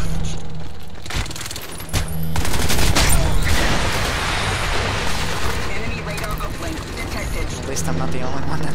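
Gunfire in the shooter video game Crysis 2, sustained bursts of automatic fire and heavy impacts filling the scene, loud and close, with someone talking over the action.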